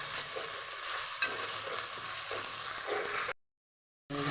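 Meat stir-fries with onion and ginger paste for a traditional Chittagong mezbani beef dish. It gives a continuous close sizzle with scraping stirs, then a sudden brief gap of silence before the sizzling resumes.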